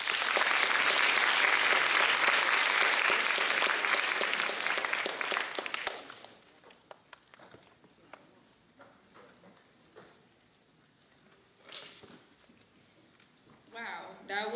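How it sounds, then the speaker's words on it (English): An audience claps loudly and steadily for Harini's Bharathanatyam arangetram, a solo classical dance debut; the applause fades after about six seconds into scattered claps and quiet room noise. "So let's give a loud applause for Harini."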